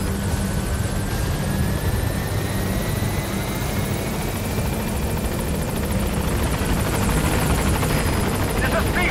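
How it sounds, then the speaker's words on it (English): A helicopter in Metal Gear Solid V drones loudly and steadily as it arrives at the landing zone, its rotor thrum constant throughout, with voices heard over it. "Go ahead and call the chopper from your eye drone."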